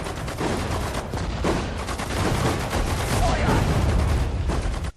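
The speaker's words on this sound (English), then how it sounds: "Let's use the armor piercing round here. And we can fire right there." Gunfire and explosions from the World War II strategy video game Sudden Strike 4 as an armor-piercing round is fired, a dense continuous barrage of loud bangs and rattling shots for several seconds before cutting off.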